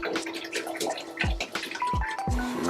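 Water sloshes and drips in a parts washer filled with hot water and degreaser while bicycle parts are submerged, with gurgles and a few deep plunks over a constant watery wash.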